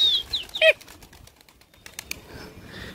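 Pigeons flapping their wings in flight, with quick bursts of fluttering and a few sharp bird calls near the start, then lighter scattered wing claps and ticks at moderate distance.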